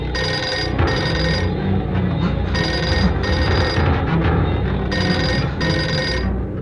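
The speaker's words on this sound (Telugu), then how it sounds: "మళ్ళీ ఫోన్ రింగ్ అవుతుంది." Telephone ringing in a Telugu film scene, repeated loud electronic bursts of ringing in a steady on-off pattern across the whole stretch, close and clear with no talk over it.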